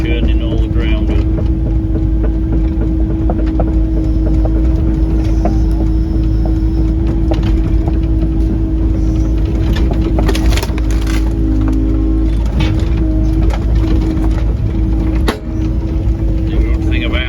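An excavator fitted with a hydraulic thumb shifts lumps of wood on a farm, its engine humming steadily with intermittent clanks and knocks of the work, while someone talks over it.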